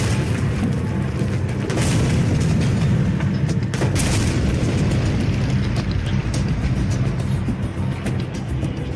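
Grenade blasts in close wartime combat during the D-Day fighting, heard as a loud, sustained booming rumble with dense crackling layered throughout and no pauses.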